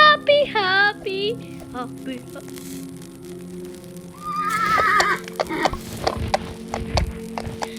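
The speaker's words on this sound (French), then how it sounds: "Pourquoi il y a un bruit de cheval à chaque fois?" Horse neighs and whinnies from the game 99 Nights in the Forest, a couple of high whinnies at the start and another mid-clip, with hoof clip-clops and game sounds behind a talking voice.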